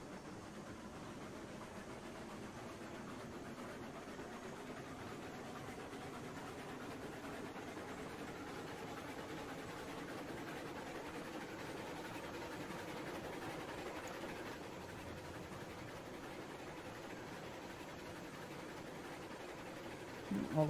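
A long freight train hauling 26 cars of beams rolls along in Railroads Online, giving a steady low rumble with faint clattering wheels that holds at an even level throughout, ending with a brief louder bump.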